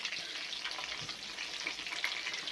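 Chicken cutlets made from ground chicken frying in a pan, a steady close sizzle and crackle throughout.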